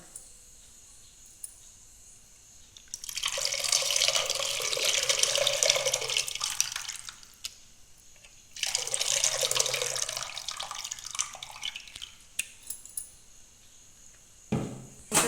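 Tamarind juice being poured into cooked lentils for Telangana-style sambar: two long, steady splashing pours of several seconds each, separated by a short pause, close and clear, ending with a brief knock.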